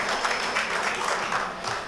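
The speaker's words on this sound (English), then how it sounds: "I want to give you a big round of" Crowd applause at a UWP Team Dominica political rally in Antigua, a steady dense wash of clapping throughout, fairly loud and continuous with no speech over it.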